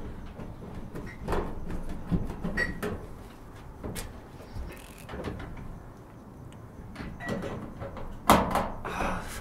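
A dryer door being removed and handled makes scattered knocks, clunks and scrapes at irregular intervals, close by, with a sharper bang near the end.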